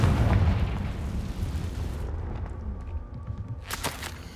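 A Confringo blast spell explodes in Hogwarts Legacy, a loud low boom that opens the moment and then rumbles and decays for a few seconds, with a few sharp crackles trailing near the end.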